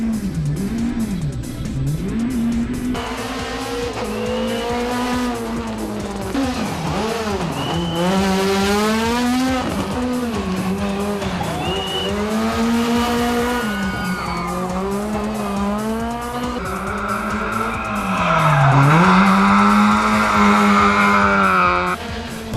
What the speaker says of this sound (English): the Friday night stage, which saw the cars screeching around Sabi